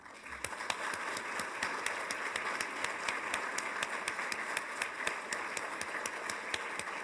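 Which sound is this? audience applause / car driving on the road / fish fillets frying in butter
audience applause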